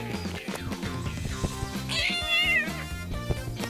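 A cartoon cat lets out a drawn-out, wavering meow over busy background music, fairly loud and close. Nobody speaks.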